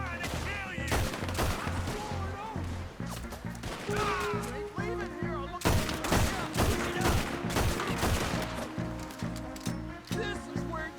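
Gunfire in the Western game Red Dead Redemption 2, repeated gunshots and fusillades over a tense orchestral score, with shouting voices between the shots.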